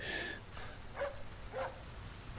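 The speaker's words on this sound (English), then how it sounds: "Oh, wait, I hear barking." In the Resident Evil 4 remake video game, a dog gives a few faint, distant barks spaced apart over a low ambient background, quiet and alone.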